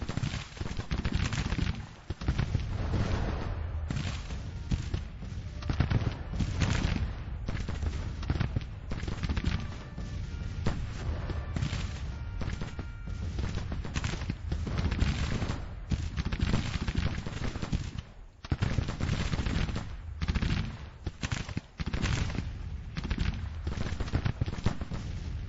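Massed musket volleys from an infantry brigade in the Civil War strategy game Grand Tactician crackle in a continuous loud rattle, with scattered heavier booms mixed into the steady firing.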